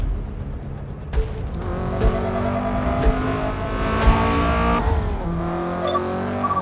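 Race car engines in Forza Motorsport droning and rising in pitch through gear changes, with brief clicks at regular intervals and no talking.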